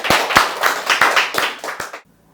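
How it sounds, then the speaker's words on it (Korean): Lecture audience claps together after a talk, a dense burst of applause with several sharp accents that stops abruptly after about two seconds. "자, 멋진 강연을 해주신 우리 김준일 교수님께 다시 한번 큰 박수 부탁드립니다"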